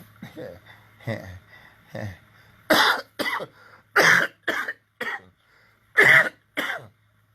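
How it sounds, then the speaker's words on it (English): A man coughs repeatedly at close range, with about a dozen harsh, separate bursts in an uneven rhythm and short quiet gaps between them. "Yeah, that's the cough."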